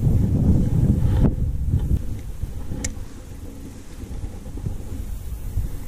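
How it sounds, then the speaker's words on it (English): Strong wind buffets the microphone outdoors while fishing, a heavy low rumbling roar that gusts hardest at first and then eases to a steadier blow. "Man, this wind is not helping."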